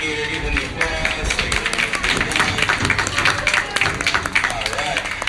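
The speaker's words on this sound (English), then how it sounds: "Say to the alligator, give him the applause" Outdoor crowd clapping at an alligator show in the Florida Everglades, loud dense applause lasting a few seconds, mixed with voices.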